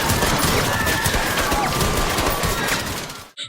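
Police in a film fire at everyone inside a shipping container, giving a dense, loud, continuous fusillade of close shots that stops abruptly at the end.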